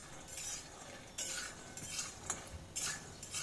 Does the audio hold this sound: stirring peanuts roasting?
yes